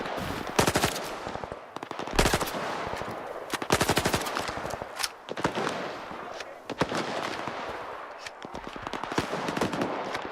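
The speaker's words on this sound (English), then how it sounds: "Well, they're shooting over there now." Gunfire in the video game S.T.A.L.K.E.R. 2 comes as loud, rapid automatic bursts and scattered single shots over about ten seconds, with short pauses between volleys.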